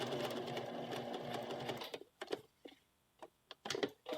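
A sewing machine stitches at a short 1.5 stitch length on a western blouse near a bow and back detail, running in a fast, steady burr for about two seconds, then stopping into a few scattered clicks and taps.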